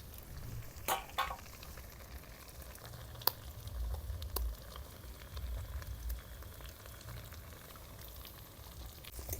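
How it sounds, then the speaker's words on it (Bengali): Eggs fry with potatoes and onions in a pan, giving a steady, close sizzle and bubbling crackle with a few sharp clicks of a utensil against the pan. "ডিম দিয়ে 2-3 মিনিট ভেজে নিলাম।"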